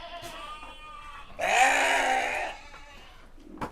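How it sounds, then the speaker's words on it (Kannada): Saanen goats, a Swiss dairy breed, bleat on a farm, one loud drawn-out bleat rising near the middle over quieter background bleats and farm noise. "ಈಗ ಇವು ಸಾನಿಯನ್ ಆಡುಗಳು ಸ್ವಿಟ್ಜರ್ಲ್ಯಾಂಡ್ ಇದ್ದು"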